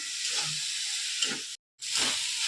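Soaked kurdai sizzling in a hot pan with turmeric and salt, a steady loud frying hiss that breaks off briefly before resuming.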